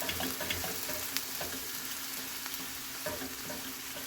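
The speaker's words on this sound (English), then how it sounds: "Now I'm just gonna get this turkey browned before I do anything else." Ground turkey browns in a hot pan, a quiet continuous sizzle broken by light scraping and stirring clicks from a utensil.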